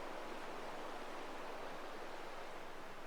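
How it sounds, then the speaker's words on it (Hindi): The Kosi River rushes behind a riverside resort room near Jim Corbett, running high, as a steady, faint broadband wash of flowing water with no voices. "आवाज जो आपको आ रही है, ये कोशी रिवर है।"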